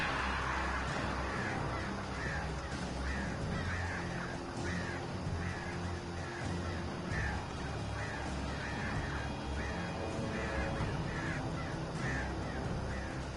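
Crows in a video game caw over and over in a steady, rhythmic series of harsh calls. The calls sit over a dense, constant background of noise and rumble, and no one talks.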